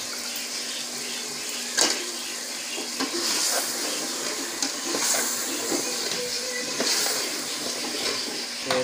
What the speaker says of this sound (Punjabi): ਪਾਣੀ ਇਸਤੇਮਾਲ ਕਰਨੇ ਜੀ ਸ਼ੋਰਬੇ ਲਈ,